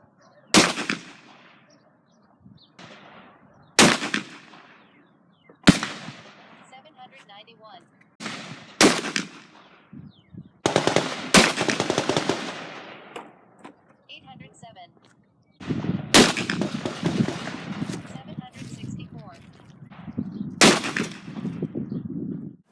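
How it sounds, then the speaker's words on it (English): A Charter Arms Bulldog .44 Special revolver with a 2.5 inch barrel fires about eight sharp, loud shots at uneven intervals outdoors. Each report is followed by a brief echo, and stretches of background noise and clatter fall between the shots. "For this test, I'm using the Charter Arms Bulldog"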